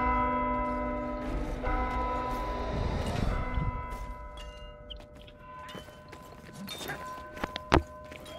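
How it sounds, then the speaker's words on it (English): A large bell ringing in the video game Vermintide 2, its long resonant tones sustaining under gameplay clatter, footsteps and thumps, with a sharp hit near the end. "Can one of you please ring the bell?"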